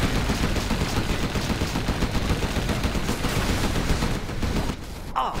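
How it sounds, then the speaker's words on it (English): Gatling tank in a real-time strategy match unleashing a dense, continuous stream of rapid gunfire, loud and unbroken for several seconds before a brief whistling sound at the very end. "Gatling tank, ready for action. Gun barrels spinning. Spin them up."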